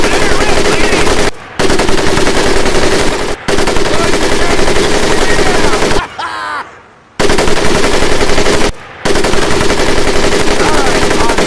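Machine gun firing in the Medal of Honor Pacific Assault video game, loud continuous rapid bursts broken by a few short pauses, with a brief quieter gap midway.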